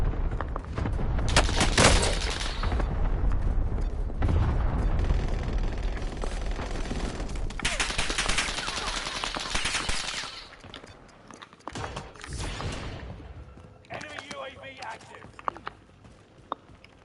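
Warzone gunfire rattles in dense automatic bursts for the first ten seconds, then thins to scattered shots and quieter game noise, with a player talking throughout.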